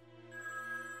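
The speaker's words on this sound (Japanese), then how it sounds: "電話だ。 誰からだろう。" Telephone ringing in the video game Dragon Ball Z: Kakarot, a short, quiet electronic ringtone with steady tonal layers sounding on its own for about a second.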